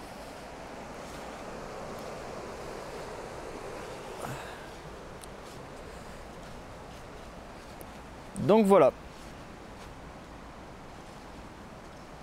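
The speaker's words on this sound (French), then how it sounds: "Avec le bruit de la rivière au fond." A river rushes steadily in the background outdoors, a constant broadband wash, while someone speaks close by and a brief handling knock sounds near the end.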